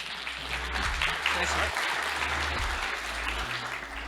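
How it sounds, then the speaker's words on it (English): Steady applause from an audience, a dense wash of clapping that holds at a fairly even level for several seconds. "So please give him a big round of applause."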